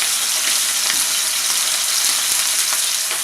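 Chicken pieces searing in a hot pan, seasoned with kosher salt and black pepper, give a steady, loud, continuous sizzle and fry with faint crackles throughout and no talking.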